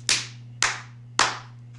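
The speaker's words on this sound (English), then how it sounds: "Arag clapped loudly and experimentally." Three loud, sharp hand claps ring out alone at an even pace, each snapping hard and then trailing off with a short decay, as if echoing off a rock wall.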